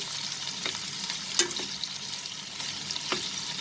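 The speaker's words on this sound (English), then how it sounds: "we'll slightly fry them over medium flame." Prawns and potatoes fry gently in a pan over a medium flame, giving a faint, steady sizzle with a few soft clicks of stirring.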